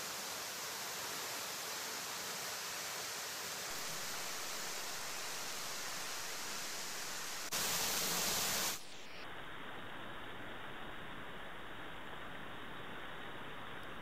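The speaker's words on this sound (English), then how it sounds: "Watching a waterfall is kind of like a meditation in its own way." Mountain waterfall in New South Wales, a dense, continuous roar of falling water heard close and loud, then an abrupt burst and a shift to a duller, muffled rush.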